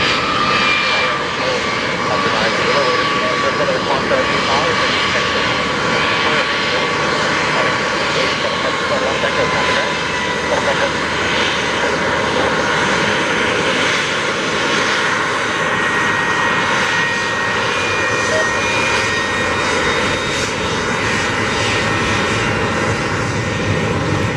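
Gulfstream III business jet at John Wayne Airport (SNA). Its engine gives a loud, continuous roar and whine throughout, with radio chatter audible beneath it.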